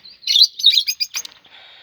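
Bright, high-pitched pigeon chirps in quick bursts, several short calls close by with a brief flutter-like rustle near the end.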